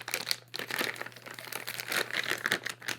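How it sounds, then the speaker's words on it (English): Plastic wrap is peeled off a Focusrite Scarlett Solo 3rd Gen audio interface, giving close, continuous crinkling and crackling for a few seconds at low level. "So I'm just going to take this plastic off."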